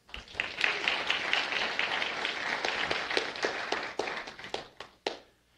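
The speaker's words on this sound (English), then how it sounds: "Give him a hand clap." An audience breaks into applause, a dense run of claps that holds steady for about four seconds and then thins out to a few scattered final claps, with no one talking over it.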